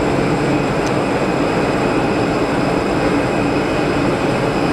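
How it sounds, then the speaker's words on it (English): Swiss Airbus A220 airliner at Geneva Airport producing a loud, steady broadband jet roar that holds evenly throughout, close and unbroken, with no voices over it. "Another Swiss 220."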